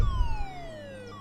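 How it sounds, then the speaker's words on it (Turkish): Police siren in the Roblox video game wails nearby, a clear tone gliding steadily downward over a low rumble, alone with no talk. "Bakın polis sirenleri geliyor."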